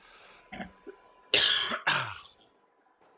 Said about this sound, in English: Got to get over this cough. It's getting kind of irritating.